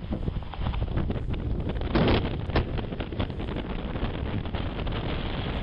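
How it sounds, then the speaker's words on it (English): Wind blows across a stable paddock on a South Australian farm a few days after a fire, buffeting the microphone as a loud, continuous roar with gusty surges. "The wind's coming over his left shoulder."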